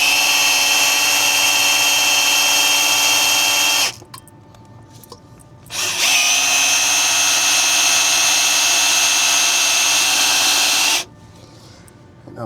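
Power polisher working on truck wheels, a loud steady high whine in two long runs separated by a quieter gap, then stopping near the end with faint handling sounds.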